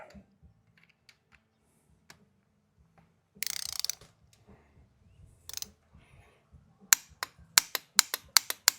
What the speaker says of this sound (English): let's torque that down to 115. We can avoid stripping these torques out.